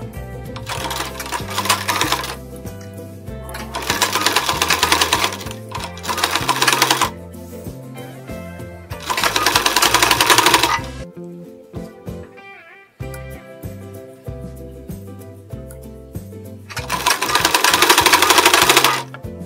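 A sewing machine runs in several long bursts of rapid, steady stitching along a blouse neckline, loud and close, with brief pauses between runs.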